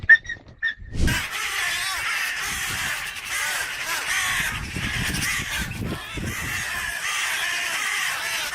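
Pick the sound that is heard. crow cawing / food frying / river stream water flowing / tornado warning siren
crow cawing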